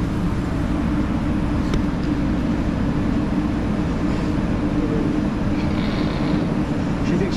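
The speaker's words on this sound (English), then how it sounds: "The train is departing." Inside a departing train, a steady loud rumble and hum of the carriage fills the space, with faint clicks and a thin higher tone over the constant low drone.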